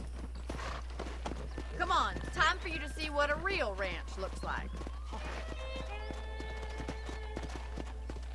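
A horse's hooves clip-clop in the Red Dead Redemption 2 video game, a steady rhythmic stream of close hoof strikes running under a voice for most of the clip.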